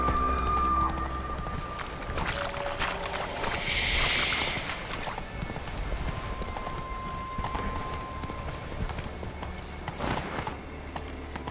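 Geralt's horse Roach gallops in The Witcher 3, with a fast, steady clatter of hooves that runs throughout over a low rumble of wind and movement.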